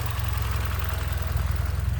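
A 2019-on Toyota Corolla 2.0 M20A-FKS engine with the EGR deleted idles steadily with a low, even rumble and faint rhythmic pulsing, close by, no voices.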